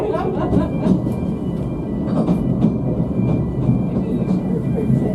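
Train on the Llanberis Lake Railway in Wales passing close by, with steady rumbling and rhythmic clickety-clack of wheels over rail joints, loud and continuous.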